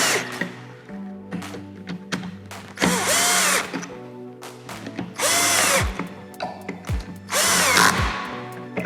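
A power driver tightens screws in a star pattern on a commercial valve plate, with repeated whirring bursts of varying length, three of them long and loud, separated by short pauses and clicks.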